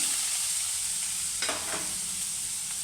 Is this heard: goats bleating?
no